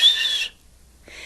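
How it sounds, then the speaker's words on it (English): Soft breathy whistling through the lips, a brief airy tone that stops after about half a second, followed by a faint second breath of it near the end. "If you don't know how to whistle with your lips, like me, I just do it so softly"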